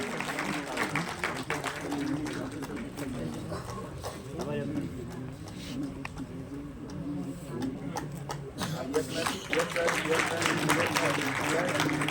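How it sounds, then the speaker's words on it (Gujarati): An audience applauds at a state and national teachers' award ceremony in Gandhinagar. A voice speaks over a hall, and bursts of clapping from a crowd rise at the start and swell again near the end. "ખૂબ ખૂબ તાળીઓના ગુજારો સાથે એમના સન્માનને વધારીએ."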